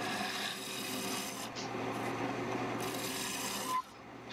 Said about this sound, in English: Using my tool rest now for bowls so that I can get right inside there in the bottom of that bowl.